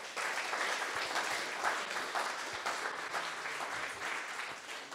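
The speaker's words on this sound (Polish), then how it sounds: "Każdy musi otrzymać należną porcję oklasków" Audience applause at a Polish history lecture evening, a dense, steady wash of many hands clapping that holds evenly throughout with no voices above it.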